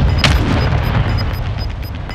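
A mortar strike explosion in the video game Call of Duty Warzone 2: a heavy, loud boom near the start rolls into a sustained low rumble, with faint game beeps over the top.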